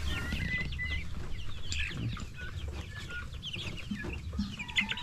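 A Rhode Island Red chicken clucks in a free-range outdoor setting, repeated short clucks at moderate distance over steady low background noise.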